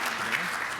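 Audience at a Rotary club meeting applauding the bowlers, a steady wash of clapping throughout a brief moment with no voices standing out.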